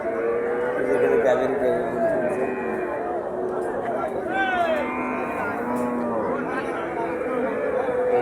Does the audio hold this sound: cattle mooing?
yes